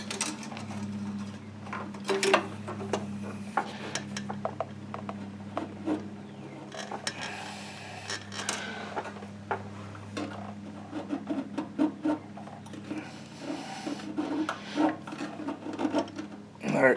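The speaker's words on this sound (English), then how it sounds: "I'm going to come over here with a pair of side cutters" Side cutters snip and pry open a cable sheath during a repair on a Toro Sand Pro 14: close, scattered sharp clicks and crunchy snips over a low steady hum, with no talking.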